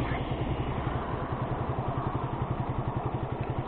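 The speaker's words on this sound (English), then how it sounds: "it's a good little bike." A small motorcycle idles close by with a steady, fast low-pitched putter and an even mechanical clatter, loud and continuous throughout.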